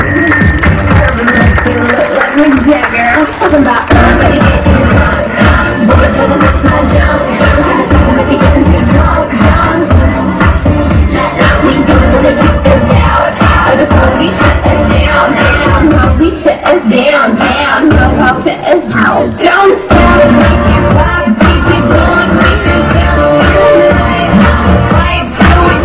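Primary school pupils, teachers and parents give long, loud, sustained applause at a school event in San Antonio Tezoquipan, Alfajayucan, Hidalgo. Dense rattling claps continue without a break, with occasional cheers mixed in.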